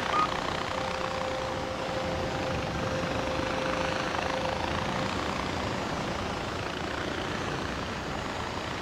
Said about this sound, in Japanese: やっぱヘリいいな、早いな。